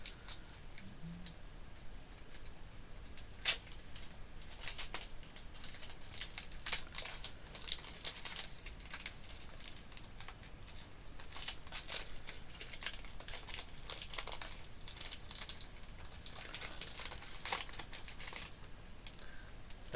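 Foil trading card packs being torn open by hand, with faint, continuous crinkling and occasional sharper rips close to the mic, no talking.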